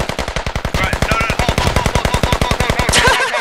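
Rapid automatic gunfire from a machine gun in the Squad video game, a steady, evenly spaced stream of loud shots running the whole stretch, ending in a sharp metallic ring.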